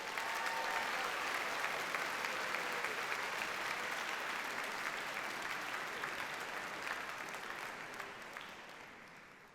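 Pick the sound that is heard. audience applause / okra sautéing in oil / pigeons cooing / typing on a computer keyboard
audience applause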